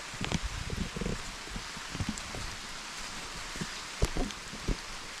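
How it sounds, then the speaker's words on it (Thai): Rain falling outdoors, a soft continuous patter with scattered louder drops and a few sharper knocks, moderately close and without speech. "ฝนตกอีกแล้วโอ้ ลำบากนะฝนตกได้"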